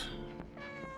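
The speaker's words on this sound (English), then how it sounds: "You hear that cute meow?" A single cute meow from the cat in the PS5 game Stray, a short, close and clear vocal call with no talking over it.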